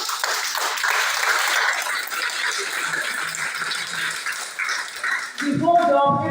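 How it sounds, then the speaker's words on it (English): An audience applauds at a school gathering with a steady wash of clapping for about five seconds, then a voice speaks over the fading claps. "I think I deserve a round of applause."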